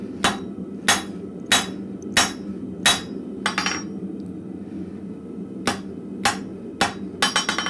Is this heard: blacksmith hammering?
yes